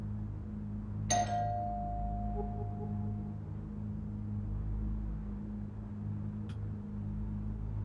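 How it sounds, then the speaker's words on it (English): A two-tone doorbell chime in an analog horror video game rings once clearly, its tone ringing out and fading over a low steady background hum, with a faint second ding shortly after. "Just ring the doorbell."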